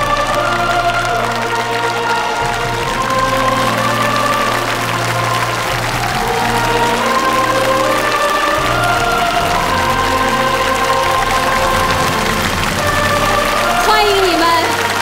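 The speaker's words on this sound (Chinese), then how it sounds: "让我们掌声欢迎他们" Audience applause and cheering for Olympic athletes coming on stage at a televised Spring Festival gala, a broad sustained wash of clapping under loud stage music with sustained tones throughout.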